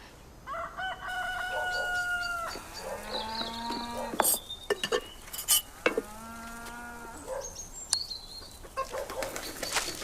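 A hen clucks in a farmyard where she has been laying eggs, her calls mixed with a cow's drawn-out moos and a rooster crowing, with sharp knocks scattered between.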